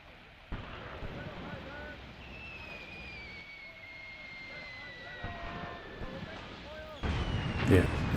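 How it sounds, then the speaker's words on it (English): Artillery barrage crashing down in the Graviteam Tactics: Mius Front war game, a heavy rumbling burst arriving near the end after a long stretch of steady droning and whining engine tones. "So that's our artillery landing up there, just to the left of the screen."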